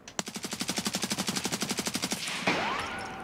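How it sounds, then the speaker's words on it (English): Sustained automatic gunfire in Escape From Tarkov: a rapid, evenly spaced burst of about thirty loud shots over two seconds, then a ringing, echoing tail as the firing stops. "He started shooting."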